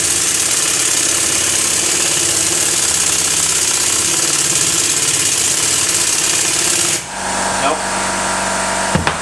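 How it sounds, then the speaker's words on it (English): An air compressor in a motorcycle workshop kicks on, a steady mechanical drone with a rhythmic knocking pulse that runs loud throughout, then the tone shifts abruptly near the end as the motor changes pitch. "now the compressors come on"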